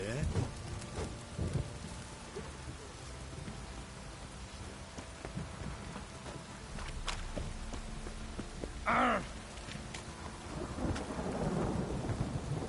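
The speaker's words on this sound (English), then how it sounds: "Oh, it's drizzling." Steady rain hisses throughout in The Witcher video game, with rumbles of thunder, a brief tonal chime midway, and occasional low voices murmuring in the background.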